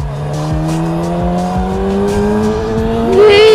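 A car engine drones steadily while driving on the road, with a rising rev and a brief squeal near the end; no speech is heard.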